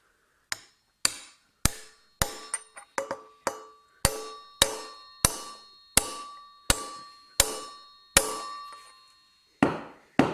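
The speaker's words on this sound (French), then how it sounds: "on va venir avec la douille progressivement rentrer le roulement" A socket hammered to drive a rear wheel bearing into a motorcycle wheel hub, a series of sharp metallic blows at a steady pace, each ringing briefly before the next.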